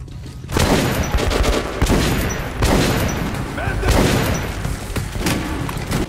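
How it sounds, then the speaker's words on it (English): A gunfight in the video game Metro 2033 Redux, with loud, close bursts of gunfire and heavy booming shots repeating over a few seconds amid dense combat noise. "Time to have a gunfight, I think."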